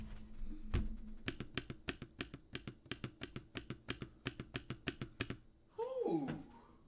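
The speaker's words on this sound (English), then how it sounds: "Here's my new keyboard." Brisk, even typing on a new computer keyboard, a rapid run of crisp clicking keystrokes up close, ending in a brief rustle with no speech.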